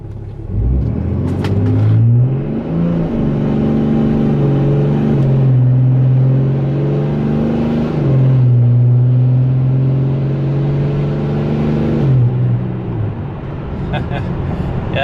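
A Dodge truck with a 68RFE automatic transmission and modified valve body makes a full-throttle pull, its engine rumbling loud and near as revs climb, then drop at each gear shift and rise again.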